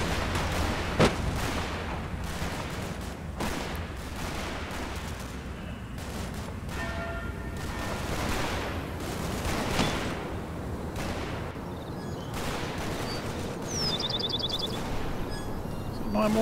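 Mortar and artillery fire in the WWII strategy game Combat Mission Fortress Italy: a dense, continuous barrage of booms and rattling gunfire with voices talking over it.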